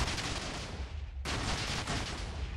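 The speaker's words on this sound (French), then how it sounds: "Les feux d'artifice Wouah" Dense, continuous crackling bursts of explosions and fireworks from a video game, loud and sustained with a brief dip midway before the barrage resumes.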